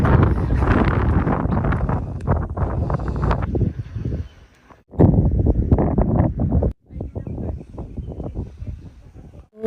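Strong gusts of wind in Cebu, Philippines, buffet the microphone in loud, roaring waves, dropping out briefly twice before surging back.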